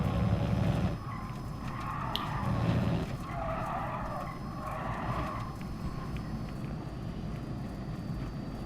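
Tyres skid and squeal on a Tesla in the racing video game Gran Turismo Sport, over a steady loud engine drone. The sound runs unbroken, a bit louder in the opening seconds, with no talking.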